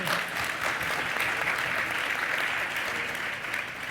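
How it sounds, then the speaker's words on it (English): A full round of applause from the audience at an education panel on learning, AI and career and technical education: steady, dense clapping lasting about four seconds and tapering slightly at the close. "let's give her a big round of applause"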